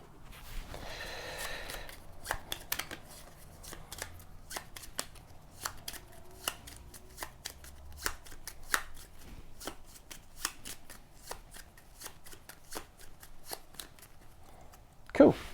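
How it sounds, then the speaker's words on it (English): A deck of decision cards for the board game Tapestry shuffled by hand, giving a brief riffle followed by a long run of crisp, evenly spaced card snaps and taps, close and fairly quiet, with a louder knock at the end. "Shuffle all decision cards from the most recent era to form a new face down decision deck."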